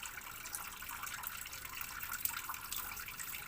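Water running steadily from a tap, a continuous soft hiss and splash, close and alone.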